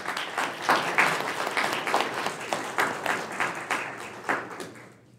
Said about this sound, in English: Everyone give our legislators an applause for that.